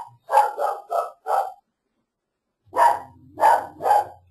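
A dog barks in two bursts, first four sharp barks in quick succession, then a short pause and three more barks, fairly close and loud with no talking over it.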